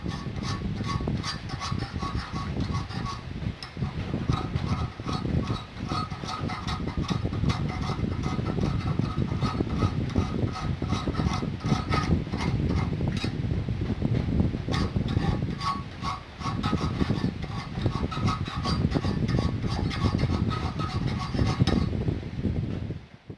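Iron worked by hand with a file to give it a wood-grain texture, a long run of steady, rhythmic rasping strokes, close and even, with no voices.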